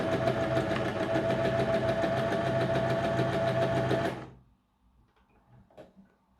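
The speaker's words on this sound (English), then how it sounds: "we need to block the thread, so we have to sew straight" Sewing machine stitching straight forward and back to lock the thread on a rehabilitation pillow, a loud steady motor whir for about four seconds, then it stops, leaving faint handling sounds.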